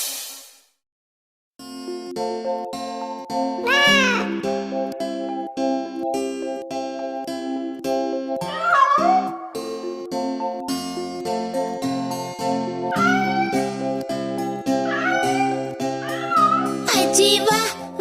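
Cat meows within a Hindi children's nursery rhyme, heard as bright, repeated mewing phrases over a steady, busy musical backing of melody and beat that runs throughout.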